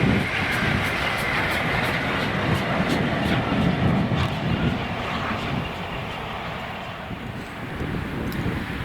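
Train 5Z98, led by locomotive 2132, rumbles past Blindwells just after leaving the Prestonpans yard, a steady broad roar with rhythmic clicking of wheels over rail joints and some wind noise, fairly close and loud throughout.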